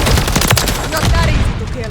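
Dense, loud gunfire crackles throughout a close-range firefight in the Modern Warfare III multiplayer game, with overlapping shots and bursts and little pause.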